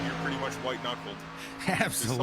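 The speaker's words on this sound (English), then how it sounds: "it's the sound of the engine with these cars" Stock car engines race in a pack at Daytona, a steady, droning roar held low beneath two commentators talking throughout.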